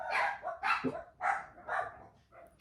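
Neighbourhood dogs barking outdoors, five sharp barks in an irregular series, moderately distant and fairly quiet.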